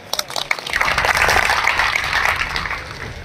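A crowd at a protest meeting in Sariska over an elevated road route breaks into applause, starting with a few scattered claps and swelling into dense, steady clapping that holds, moderately loud.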